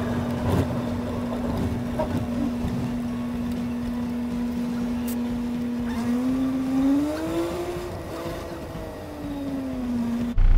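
A truck drives along a road after dark in Wyoming, giving a steady engine drone whose pitch climbs and sags with speed changes, alone without speech.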